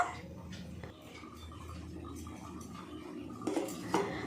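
A lid is set on a cooking pot of pointed gourd and mung dal, with a quiet low background and a couple of soft metallic clinks near the end.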